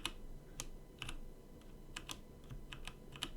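Keystrokes of a computer keyboard pressing a Shift+D shortcut in 3D modeling software: scattered light clicks and taps, a dozen or so irregular presses, close and fairly quiet over low room hum, no talking.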